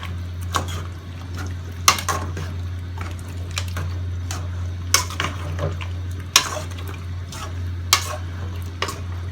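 A spoon stirs braised pork leg stew in a pot over a low steady hum, with occasional sharp clinks against the pot and soft scraping and bubbling.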